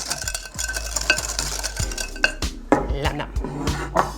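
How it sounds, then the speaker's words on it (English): Wet ingredients whisked together with light brown and white sugar for a spiced pumpkin crème brûlée, heard as quick irregular clinks and scrapes of a whisk against a bowl, fairly close, with some low background hum and no talking. "Whisk really well all these wet ingredients."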